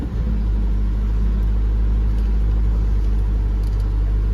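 Engine of a 2022 Toyota GR86 with a boxer four idling after a push-button start, a loud, steady low rumble heard close up from inside the car.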